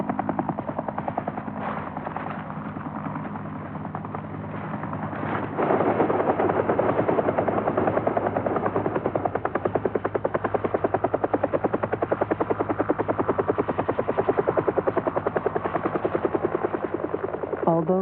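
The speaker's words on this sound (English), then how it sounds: "Jean is smiling as she is carried to the waiting helicopter, which will fly her to a hospital for emergency surgery." A helicopter waits to fly an injured skydiver to hospital in a rain forest setting, its rotor chopping in a rapid, steady thud that grows louder and closer partway through.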